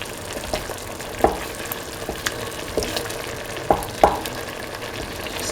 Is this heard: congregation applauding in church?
no